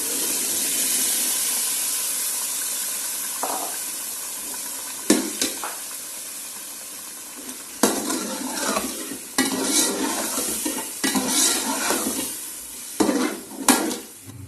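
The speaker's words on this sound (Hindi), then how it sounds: "तो अब इसको जो है ना छोले ये चने डालेंगे हम। ये अब चने शामिल कर दें।" Chickpeas are added to a frying masala and stirred, producing a soft background sizzle broken by several sharp scraping and clattering spoon-against-pot bursts, some quick and close, with no talking.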